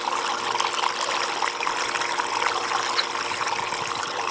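Water runs steadily through a gold sluice during a clean-up, a continuous broad rushing trickle that stays even and close with no voices.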